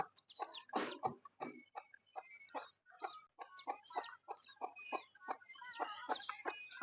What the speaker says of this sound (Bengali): এগুলো হলো আপনার উড়ন্ত যে হাঁস বালি হাঁস নামে যেগুলো বলে বালি হাঁস সেই বালি হাঁসের বাচ্চা